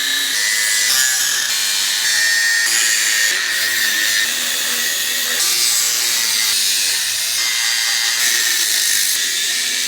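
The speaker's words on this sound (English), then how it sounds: "I'm just gonna cut all this off with the cutoff wheel and then go and sand it down." A cutoff wheel grinds through the steel coupler of a Big Tex utility trailer, a continuous loud high-pitched screech with slight shifts in pitch as the cut progresses, no voices.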